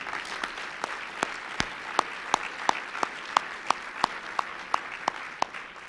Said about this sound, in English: How about another round of applause for Ricky,